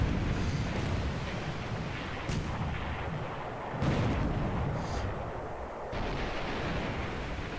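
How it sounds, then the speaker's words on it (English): A torpedo strikes enemy heavy cruisers in the naval war game War in the Pacific, giving a steady, heavy booming rumble that swells several times over more than seven seconds, with no voices. "Start this fight off right with a torpedo hit."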